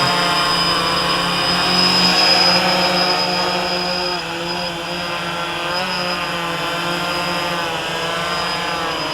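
A WLToys V303 Seeker quadcopter hovers close by with all motors spinning, a loud steady high-pitched whine with a buzzing drone underneath that dips slightly in pitch and level midway, with no talking.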